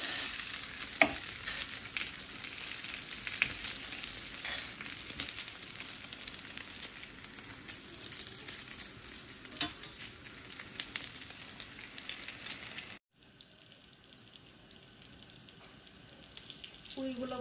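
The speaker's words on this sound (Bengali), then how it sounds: "পুরিগুলো ভাজা হয়ে গিয়েছে, বেশ কড়া হয়েছে ভাজাগুলো" Puris deep-frying in hot oil in a home kitchen, a continuous crackling sizzle with occasional sharper pops, then a brief drop before the frying resumes.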